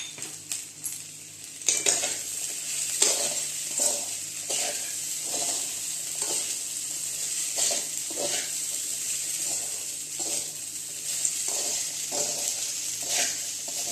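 Potatoes sautéing in a pan for sabudana khichdi, with a low steady sizzle and repeated scraping stirs of a utensil against the pan at a regular rhythm, close by and without talk.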